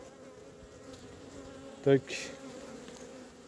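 Bees from a hive being checked buzz steadily throughout, a close insect drone with a short sharp knock near the middle and a brief voice.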